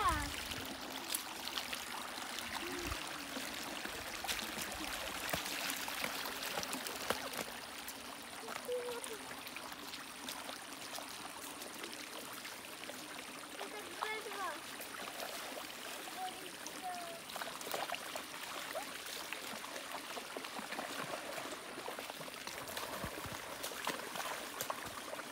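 Water flowing along a creek with a busy, continuous wash and trickle, steady throughout with a few brighter splashes, and faint voices now and then underneath.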